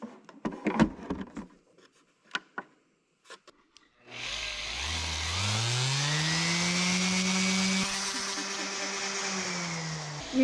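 A corded electric sander starts up, powered from a portable power station in an off-grid solar setup, and runs loud and steady with a rising whine after some faint knocks and handling noises.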